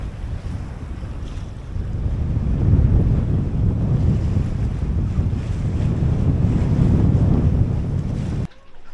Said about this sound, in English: we probably still have about 20 knots of wind behind us.